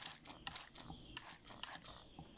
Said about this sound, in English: So we spray this with water.